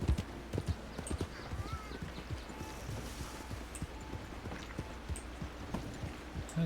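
Steady clip-clop of horse hooves trotting at a regular rhythm in a video game, fairly close, with a soft ambient bed underneath and no talking.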